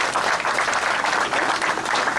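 Sustained applause from the audience at a 2015 cultural week event in Oyem, dense steady clapping throughout, fairly loud and close, with no speech over it.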